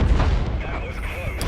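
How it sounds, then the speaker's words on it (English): Self-propelled artillery, the FV304, firing in World of Tanks on the Cliff map, a heavy booming shot near the start that rolls off into rumble, with a voice talking over the game sound. "I shot at him without being fully aimed."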